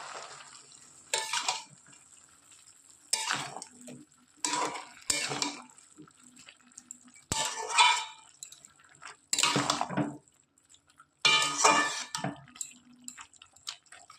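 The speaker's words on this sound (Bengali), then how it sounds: "এবার ঢাকনি তুলে দেখে নেব কতটা হয়ে এসছে কুমড়োর শাক" A pot of pumpkin greens with potatoes cooking on the stove: the lid is lifted with metallic clatter and scraping, then several loud bursts of stirring and pot clanks at irregular intervals over a soft simmering hiss.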